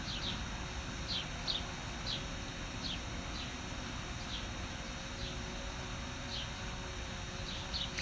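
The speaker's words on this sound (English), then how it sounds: "Can hear the birds on the stream." Birds chirping outdoors at sunset in the Phoenix Mountain Preserve, Arizona, heard as faint, repeated short high calls spread across a steady background hum.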